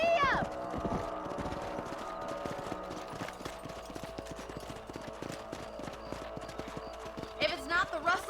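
Horse hooves clip-clopping at a steady gallop in the Red Dead Redemption video game, with a rhythmic beat running under music and occasional game voices.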